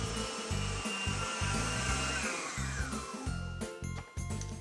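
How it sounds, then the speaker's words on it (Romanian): An electric stand mixer whips eggs for a Dobos torte, a steady loud motor whir with a rising pitch sweep as the speed is turned up, beating continuously throughout. "și voi începe să mixez."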